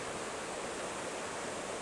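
Argyle Waterfall in Tobago roaring as a steady, dense wash of falling water, loud and unbroken with no voices.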